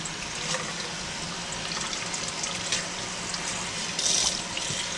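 Steady stream of running water into a kitchen sink for rinsing radish greens, a continuous close hiss with slight splashing variation throughout.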